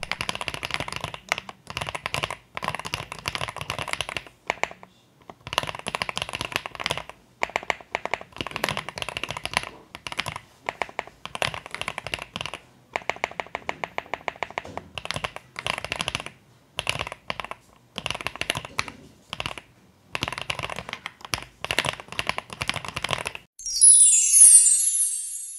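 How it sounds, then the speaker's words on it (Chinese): A Qianxingzhe X87S mechanical keyboard is typed on up close, with crisp key clacks in fast bursts and short pauses, a quick even run of repeated strokes in the middle, and no talk. "我們可以來聽聽它的打字聲音。"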